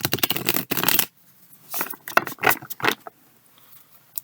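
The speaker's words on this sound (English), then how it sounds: "I will give 7 shuffles and 1 riffle shuffle" Crisp papery flutters of cards being riffled, a few quick bursts separated by short pauses, close and fairly loud with no talking.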